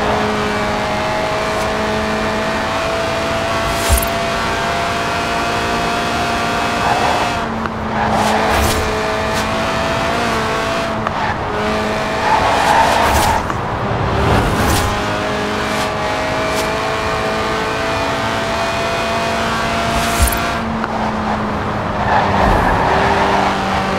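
A high-revving Lotus race car engine in Forza Horizon 4, a 1.8-litre revving to 8,000 RPM, screams loudly and steadily, with brief lifts and surges as it shifts and accelerates, no voices.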